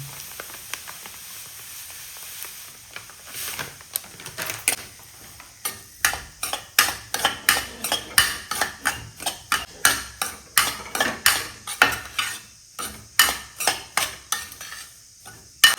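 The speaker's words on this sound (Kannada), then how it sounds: "ತುಪ್ಪ ಸ್ವಲ್ಪ ಕರಗಿದ ಮೇಲೆ ಸೊ ರವಾನ ಫ್ರೈ ಮಾಡ್ಕೊಳ್ತಾ ಇದ್ದೀನಿ" Rava (semolina) stirred and fried in ghee, a rapid run of rhythmic metallic spatula scrapes and clinks against the pan over a faint sizzle, starting sparse and becoming a steady close beat, no talking.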